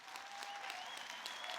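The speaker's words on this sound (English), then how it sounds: "Hold the applause for a minute." Graduates at a Victoria University graduation ceremony clap together, a dense continuous patter of hands heard at a modest distance, with a faint steady tone running beneath.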